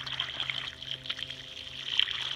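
Water flows under pressure out of a well pipe in an outdoor setting, a steady hissing, splashing stream that rises and falls slightly in a continuous flow.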